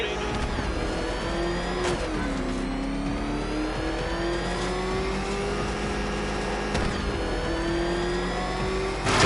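The Batmobile's engine in a Batman video game, a steady loud droning roar with rising pitch as it accelerates, brief sharp transient hits, under a dense mix of game sound.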